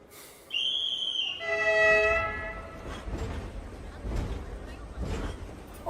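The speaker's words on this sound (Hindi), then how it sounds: "ओए, ट्रेन जा रही है।" A train sounds a loud, sustained horn, then rumbles past with a steady low roar and rhythmic clatter of wheels.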